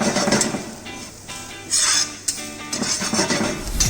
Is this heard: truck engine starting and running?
no